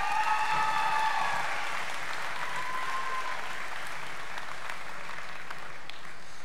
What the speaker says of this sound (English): Let's give a round of applause to all of our graduates.